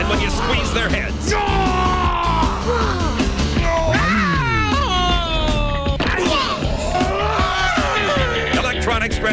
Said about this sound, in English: They scream when you stretch them and come back for more.